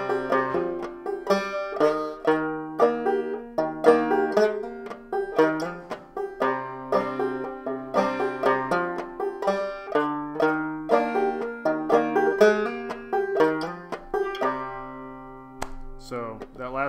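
Clawhammer banjo playing four measures of a tune, version three, with two skips, heard alone as a lively stream of bright plucked notes in a steady bouncing rhythm.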